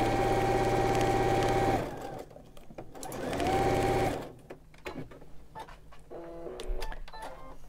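A sewing machine stitches a quarter-inch seam on a quilt block, two steady whirring runs with a short pause between them, followed by quieter handling clicks; no talking.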